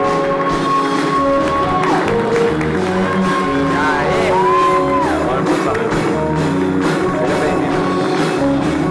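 A live audience at a talk show in São Paulo cheers, shouts and whoops continuously alongside applause, with a steady dense crowd noise throughout and some voices rising above it.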